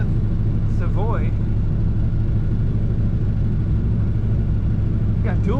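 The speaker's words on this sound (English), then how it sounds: "Today we're driving a 1964 Plymouth Savoy." A 1964 Plymouth Savoy with dual carburetors and a four-speed manual drives along with a steady, loud low engine rumble throughout, while a voice talks over it.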